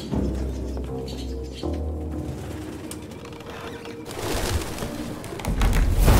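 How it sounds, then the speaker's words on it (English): Pigeons cooing and flapping in the video game Detroit: Become Human, soft coos layered over a low hum, then a sudden bright rush of wing flutter near the end. "Goddamn fucking pigeons!"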